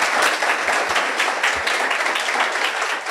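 An audience at a civil-services toppers' felicitation gives a guest a loud welcoming round of applause, dense and continuous clapping that fills the hall without speech.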